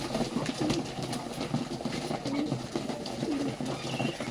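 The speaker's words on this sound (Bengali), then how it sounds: "কিছু খাবার কবুতরকে দিয়ে দেখেন দেখেন কি অবস্থা, সব আইসা পড়ছে।" A flock of pigeons feeding coo in low, repeated throaty calls close by, layered over soft pecking and rustling with a faint background murmur.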